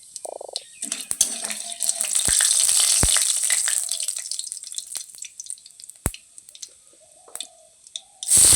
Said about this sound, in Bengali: তো দেখো আমি ফোড়ন দিয়ে দিলাম।